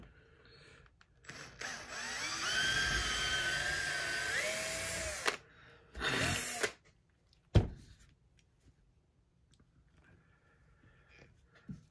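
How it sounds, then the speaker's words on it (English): A high-pitched power drill boring into a turkey wing bone during taxidermy whines in a sustained burst, then a shorter second burst, followed by a sharp knock and quiet handling noises. "So I'm gonna get a drill bit started to start it with."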